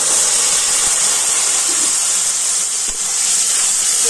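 Ginger-garlic paste with turmeric and cumin powder hisses loudly in a hot pan right after a splash of water goes in, a dense, steady, close steam-like sizzle with a couple of faint knocks.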